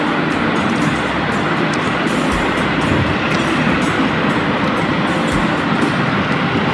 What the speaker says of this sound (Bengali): এখন একটা ট্রেন আসতেছে